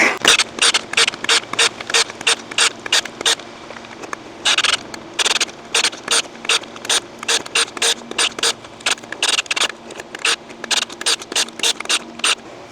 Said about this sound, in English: I love this auger.